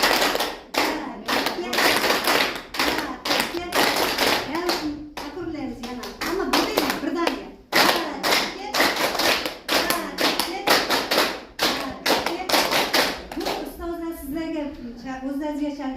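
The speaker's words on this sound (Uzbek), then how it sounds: "Hozir biz ikkita qarsak chalamiz, uchinchisida 3 ta qarsak chalamiz." A primary school class claps in rhythm as a group, loud sharp claps in a repeating pattern of two, then three. A voice speaks between the rounds and at the end.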